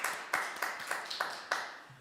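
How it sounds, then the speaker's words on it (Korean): A church congregation claps to give glory during a Sunday worship service, heard as a short run of sharp, evenly spaced claps in a steady rhythm with no talking. "우리 모든 영광 다시 한번 박수로 하나님께 올려드리겠습니다"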